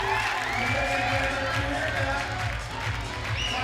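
Spectators at a climbing finals event cheer and clap in a sustained crowd roar, with scattered whoops and a commentator-like voice faintly mixed in, dipping slightly near the end.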